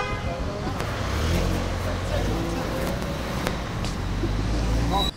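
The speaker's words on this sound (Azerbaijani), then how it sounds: "Siqnal nəyə lazımdır?" Car horns honking in city traffic, short toots over a steady road rumble, with people talking nearby.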